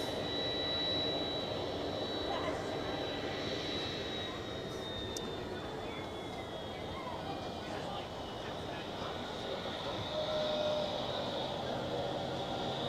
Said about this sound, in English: A Swiss A321 taxiing on taxiway Foxtrot to the parking position, inbound from Palma de Mallorca